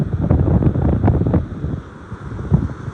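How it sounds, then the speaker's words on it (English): Gusty wind on a seaside walkway at Protaras, Cyprus, beside a choppy sea, buffeting the microphone with a close, steady low rumble that eases slightly toward the end; no one speaks. "a bit more windier. Trying to cover the mic a little bit."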